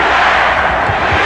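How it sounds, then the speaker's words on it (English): The Bulls home crowd chants in an arena during a 1992 basketball game, a loud, dense roar of massed voices held steady throughout. "For the Bulls crowd calling out defense"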